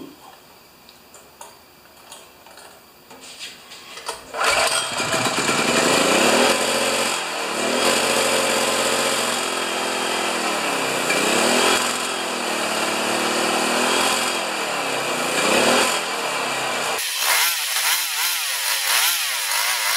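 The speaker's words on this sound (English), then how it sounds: "And we'll see if we can start it up and do it again" A Champion 4000 watt generator with several faults, started on choke, kicks into a loud, steady engine roar that runs for about twelve seconds before dropping off, following quieter rattling and ticking at the start.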